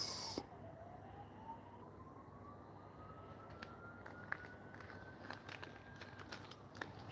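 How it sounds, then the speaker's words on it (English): An ambulance siren passes outside during indoor polymer clay work, a faint, distant single wail that rises and falls slowly beneath occasional nearby clicks and handling sounds, with no talking. "Can you hear an ambulance?"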